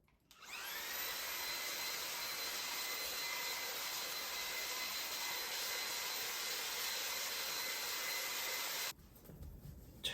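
Vacuum cleaner with a brush attachment running on an air conditioner fan coil unit, a loud, steady whining hum that holds continuously before cutting off near the end, leaving faint handling noise.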